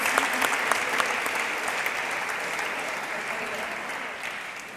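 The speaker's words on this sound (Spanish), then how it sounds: "Pueden aplaudir, si quieren." Audience at a poetry reading in Spain applauding, a dense, steady wash of clapping from a seated crowd that holds for several seconds and slowly fades toward the end.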